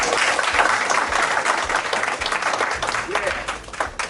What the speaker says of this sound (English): But can we give him a good hand clap?